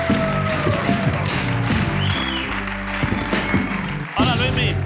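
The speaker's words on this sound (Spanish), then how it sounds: "Un fuerte aplauso para Luis Miguel Petróleo" A studio audience applauds on a Spanish late-night TV show, a steady wash of clapping over loud music with a thumping bass line.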